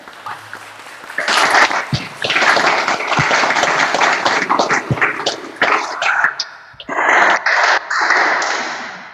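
Sustained applause from the audience at a lawyers' swearing-in ceremony before the Supreme Court, a dense, steady round of clapping with a brief dip and a second swell before it cuts off.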